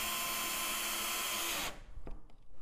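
Drill boring holes in parts for a robot mower garage, a loud steady whir that stops abruptly, followed by a few faint knocks and handling sounds.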